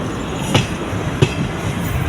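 Jan Shatabdi Express train running on the tracks between Coimbatore and Tiruchchirappalli, a steady rumbling rattle with two sharp wheel clacks about half a second apart, close and loud.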